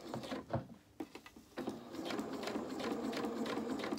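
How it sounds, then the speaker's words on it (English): Domestic sewing machine stitching down a fabric edge, a few short bursts of needle clatter followed by a steady, continuous run of rapid mechanical chatter, close and fairly quiet. "a couple of stitches forward, a couple of stitches back, and then we'll just start sewing down this edge."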